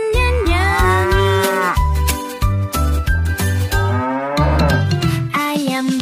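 Cartoon-style cow moos sung within a children's animal song medley, repeated long lowing calls layered over a steady bouncy musical backing with bass and bright melody, loud and continuous throughout.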